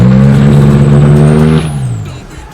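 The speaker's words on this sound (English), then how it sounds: "I think it's a little intake pipe. You hear it goes like that." A car engine with a damaged intake pipe drones loudly with a steady, layered hum for about a second and a half, then suddenly drops away to a quieter, fading rumble.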